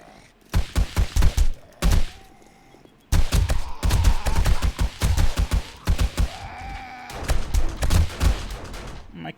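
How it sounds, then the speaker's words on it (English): Rapid automatic gunfire from a defensive turret in the video game 7 Days to Die, shooting at a military zombie, loud bursts of repeated shots separated by brief pauses. "Turret should be unloading on the military zombie."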